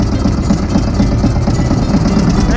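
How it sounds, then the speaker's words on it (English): A boat engine idles steadily just after starting on a sea trip at Daman, a loud, close, continuous low rumble with a rhythmic throb and no talk over it. "We just started his engine."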